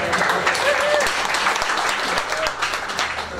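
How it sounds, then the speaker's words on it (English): An audience at a Fort Lauderdale app pitch day applauds for Griffin, a steady wash of many hands clapping close by for several seconds, with faint voices and a few whoops mixed in. "Give everyone a applause for Griffin."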